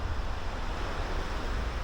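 Small ocean waves on a Philippine coast, a steady, dense wash of surf with a low rumbling base and broad hiss, unbroken and fairly near, with no voices.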